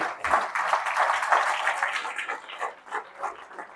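Applause fills a church congregation during a Pentecost service: a dense, steady wash of many hands clapping that thins slightly toward the end.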